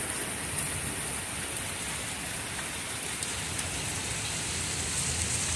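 Steady rain falls over a front garden of flowering plants, a dense, even hiss of drops continuing throughout with no talking.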